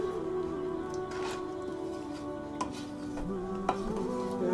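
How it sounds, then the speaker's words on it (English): A spoon stirs okra, cassava and a Scotch Bonnet chili in a pot, with soft scraping and a few light clinks over a low background hum and faint sizzle. "we give it a stir again"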